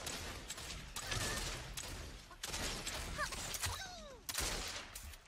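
Game gunfire in Realm Royale, a string of sharp broadband shots in bursts over several seconds, loud and close amid battle effects, with no voices.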